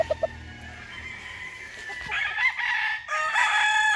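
A brown red broodstag gamecock at a game farm crows loudly and close by in one long, drawn-out call, preceded by a few short clucks.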